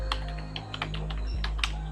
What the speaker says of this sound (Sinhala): ක්ලික් කළා මොන හරි ටයිප් කළා